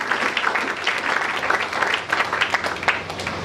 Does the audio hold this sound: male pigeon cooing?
no